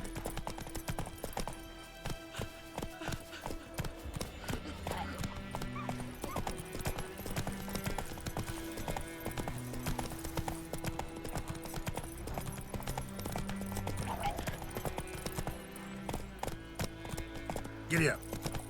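Horse hooves clip-clop steadily through a scene in The Witcher 3, mixed with game music and spoken dialogue, with a brief whinny near the end.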